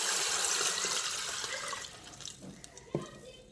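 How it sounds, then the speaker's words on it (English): Water is poured into an Instant Pot over hot oil and spices, a steady gushing splash that gradually thins out into a few trickles and drips, close by. "add 2 cups of"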